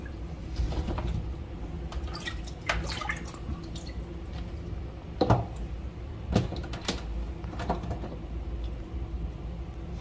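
Water drips and splashes while vegetables are washed in a kitchen, with a run of uneven close drips and light splashes over a low steady background hum and no talking.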